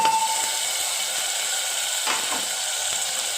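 Garlic, ginger-garlic paste and onion frying in hot oil for a Sindhi spinach dish, a steady bright sizzling hiss throughout with a few faint clinks of a utensil, close and alone.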